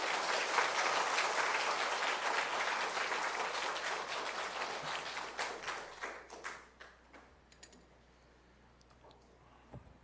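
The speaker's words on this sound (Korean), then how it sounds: "손님이 오셨는데 박수로 우리 환영하시면" Church congregation applauding to welcome a visiting guest from Gimhae during a Sunday worship service, a dense round of clapping that holds steady for several seconds and then thins out into scattered final claps.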